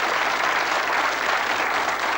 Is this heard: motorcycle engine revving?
no